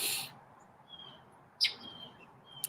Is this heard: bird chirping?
yes